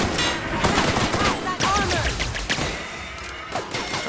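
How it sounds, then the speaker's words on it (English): Minigun fire in The Outer Worlds, a dense continuous burst of rapid shots with crashing impacts running throughout, loud and close, during a fight against a tough creature. "Try shooting it with the minigun"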